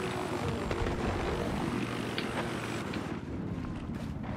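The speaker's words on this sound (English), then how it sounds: "my helicopter's burning" Damaged, burning helicopter in the Battlefield 4 beta, a steady loud rotor and engine drone with rumbling low end running unbroken throughout, no talk over it.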